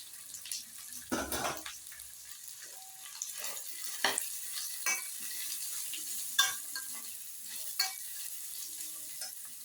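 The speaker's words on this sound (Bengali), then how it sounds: "এবং গাজরগুলো আমি এর মধ্যে দিয়ে দেবো।" Home-grown carrots drop into a hot pan for a vegetable chop filling and are stirred, a soft, fairly quiet sizzle with scattered light scrapes and clinks.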